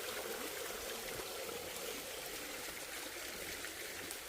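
Steady rushing water flows continuously, a broad hiss with no voices, a stream running through a channel below a small waterfall beside a hanok in a Korean mountain village.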